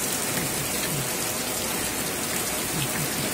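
Heavy rain pouring down, a dense, steady hiss of drops hitting surfaces, loud and unbroken throughout with no voices.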